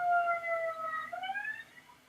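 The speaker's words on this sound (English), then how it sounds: "a fire truck just went by my office" A fire truck siren wails past an office, a clear rising and falling tone heard from outside at moderate distance with no talk over it.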